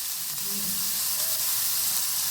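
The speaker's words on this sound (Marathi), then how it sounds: "कांदा हा लालसर परतून घ्यायचा." Onion frying in hot oil with mustard seeds and turmeric until reddish, a continuous soft sizzle and hiss close by, with no voices over it.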